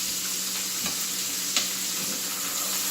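Meatballs frying in a pan for a classic Italian Sunday dinner, giving a steady, close sizzle with a couple of faint clinks as they are stirred.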